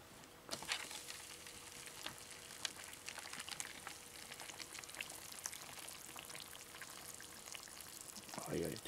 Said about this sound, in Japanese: お湯を入れていきます